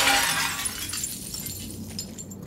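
A window smashed in Silent Hill 2 Remake: a loud, bright burst of shattering glass at the start, trailing off into scattered tinkling shards.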